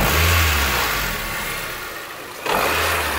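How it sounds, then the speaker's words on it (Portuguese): A Toyota Hilux pickup's engine revs up loudly, dips, then surges again, with a rough, shuddering judder at the start of the acceleration. "Tá escutando essa trepidação no início da aceleração?"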